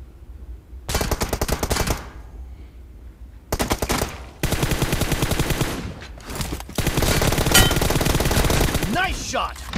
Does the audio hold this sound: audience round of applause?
no